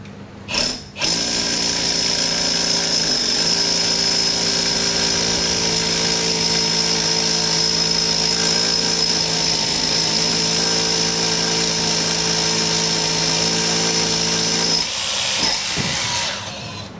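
Milwaukee SDS Fuel rotary hammer drill boring into concrete, a loud steady high whine with hammering rattle that runs almost continuously for about fourteen seconds before winding down.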